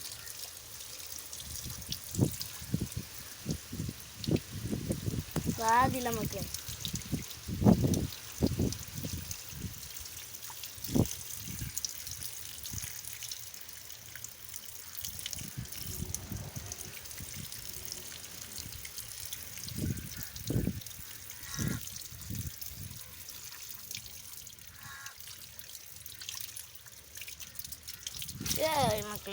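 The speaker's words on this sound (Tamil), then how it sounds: "பாருங்க அதுக்குள்ளே இங்கே தண்ணி பாய்வா." Water trickles and splashes from a pipe onto tomato plants in a garden, a soft, uneven flow running steadily under frequent talking.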